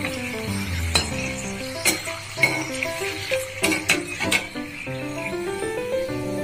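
Freshly fried potato chips are scooped out of hot oil into a pot, with sharp metal clinks and scraping and a soft sizzle, all under steady background music.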